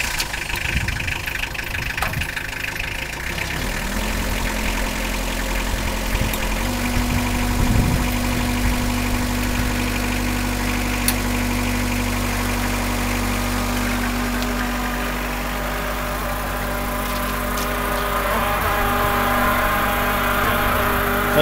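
Engine of a Blastcrete Dampcon concrete rig idling, a steady low rumble and mechanical hum that runs continuously and close, with a slight shift in pitch partway through and no talking.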